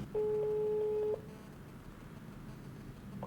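Telephone ringing on a call to an advertiser, one steady electronic ring tone lasting about a second, then a low background hiss with the start of another ring at the end.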